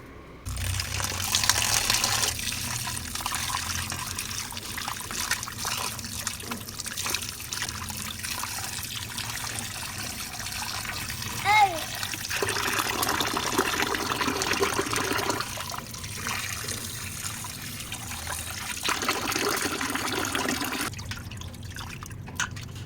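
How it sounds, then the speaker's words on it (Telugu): Tap water runs steadily over freshly peeled prawns as they are rinsed clean for a prawn fry, a close, continuous splashing trickle with dripping that swells and thins as the prawns are stirred by hand, with no talking. "ఇప్పుడు వీటిని అయితే నీట్గా వాష్ చేసేద్దాం"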